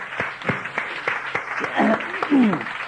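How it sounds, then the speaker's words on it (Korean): A church congregation claps in thanks during a worship service, scattered hand claps mixed with a preacher's voice over the crowd. "우리 하나님 앞에 감사 박수 합시다."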